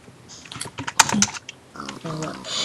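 Rapid clattering keystrokes on a computer keyboard while entering Minecraft admin commands, a close burst of typing with a brief pause midway.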